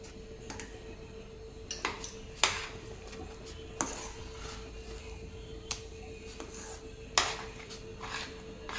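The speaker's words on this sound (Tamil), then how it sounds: "ஏலக்காய் சேர்த்து நல்லா ஒரு டைம் நல்லா கலந்து விட்டுறலாங்க" Crushed cardamom goes into thiruvathirai kali, a rice dish, in a metal pot, followed by a few sharp clinks and scrapes of a utensil against the pot, spaced irregularly over a quiet background.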